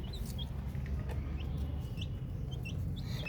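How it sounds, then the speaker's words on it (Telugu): Several small chicks peep in short high chirps while eating, scattered and fairly close, over a steady low background rumble. "చూడండి మన కోడి పిల్లలు"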